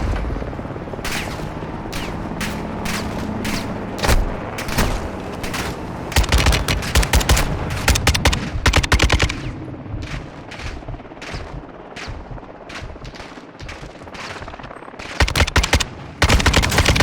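Sustained light machine gun bursts in a first-person shooter on veteran difficulty, rapid stuttering volleys with short pauses, growing denser and louder midway, mixed with other battlefield gunfire and blasts.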